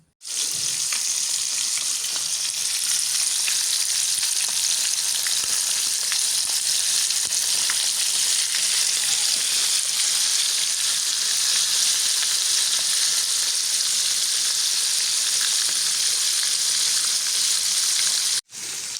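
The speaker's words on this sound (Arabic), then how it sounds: "دابا غادي نفند الحوت ديالي ونعملو في الزيت يقلي" Continuous loud sizzle and crackle of fish frying in hot oil, close up and steady, with no voices over it.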